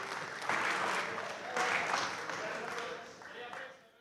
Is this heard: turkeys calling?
no